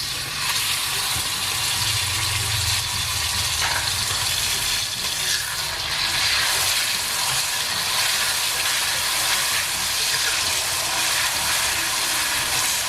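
Balado chili paste sautéing in hot leftover meat-frying oil for Padang-style dendeng, a steady, dense sizzle with faint stirring, close and continuous.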